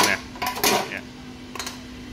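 Metal clatter and knocks as the inner pot of a Philips air fryer, a Japanese-domestic model in near-new condition, is handled, with a few sharp clanks close by and short pauses between them, no talking.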